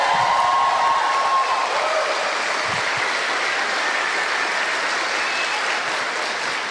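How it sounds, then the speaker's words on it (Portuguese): Dense, steady applause from a church congregation at a sermon, a broad continuous wash of clapping filling the whole stretch, loud and unbroken. "Pode aplaudir"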